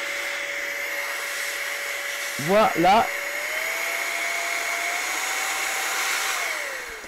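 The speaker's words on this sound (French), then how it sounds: "C'est quoi? C'est un souffleur. Alors, je suis désolé pour le bruit," A small electric air blower used to clear dust whirs with a steady high-pitched whine and airy hiss throughout, its pitch rising slightly; a voice speaks briefly early on.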